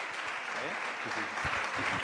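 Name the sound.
audience applause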